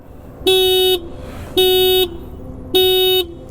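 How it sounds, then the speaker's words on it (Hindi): A thin, high-pitched single horn on a Kawasaki Ninja 300 motorcycle honks three times in an even rhythm, each beep about half a second long, loud and close. "एक बार हॉर्न की आवाज़ सुना देते हैं।"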